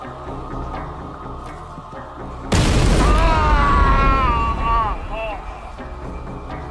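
A mail bomb blasts in a university computer department coffee room with a sudden loud boom over low background sound. A strained, voice-like cry follows as the blast fades.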